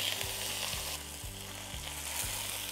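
Tilefish halves pressed down and pan-fried over medium heat in a well-heated pan, giving a steady dense sizzle with repeated rhythmic low thumps, close and loud, no talking.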